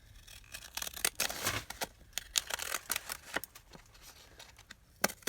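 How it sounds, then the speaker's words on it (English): Large deckle edge scissors snip paper in a quick series of crisp, close cuts, some louder than others, with no talking. "We might use the gigantic deckle edge scissors."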